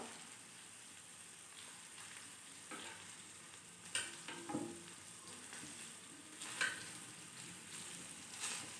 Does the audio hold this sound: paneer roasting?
yes